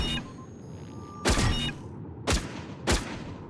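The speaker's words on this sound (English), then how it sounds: "I'm gonna shoot it from here" Three separate, sharp gunshots ring out in the video game Planetside 2, each a loud crack with a short tail, spaced irregularly over quiet in-game background ambience.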